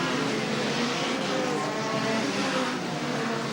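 Speedway cars racing through the top bend of a still-wet track at the 1980 Spedeweekend at Ipswich, a dense continuous engine roar from several cars at once.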